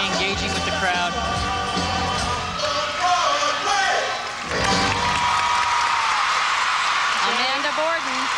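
A large arena crowd at a professional gymnastics championship claps and cheers in a steady, loud wash that swells briefly in the middle, with a commentator talking over it.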